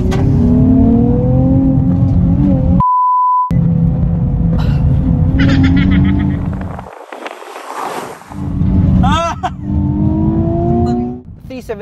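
A 2020 Nissan 370Z Nismo engine pulls steadily under acceleration while driving, a continuous low rumble rising and falling beneath someone talking almost throughout.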